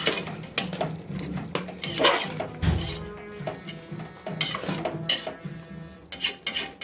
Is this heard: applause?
no